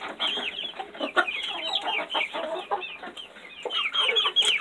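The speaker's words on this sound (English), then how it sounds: "I've got an Americana rooster, a barred rock rooster, and an Alavega rooster." Ameraucana, barred rock and Alavega chickens, roosters among them, cluck and chatter close by on a farm in a busy, uneven run of short calls with no talking.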